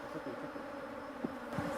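Bees buzzing around a beekeeper during a honey harvest at an apiary in Rongai, a steady, faint insect drone filling the background with a few brief louder passes close by.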